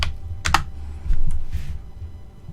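Password typed on a computer keyboard: a short run of close, crisp key clicks, several taps in quick succession then a couple more, with no talking.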